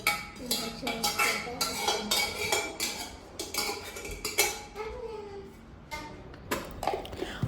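Mutton curry is moved into another bowl in a home kitchen, with close clinking and scraping of a metal spoon against pots and bowls in quick irregular bursts, and faint voices nearby.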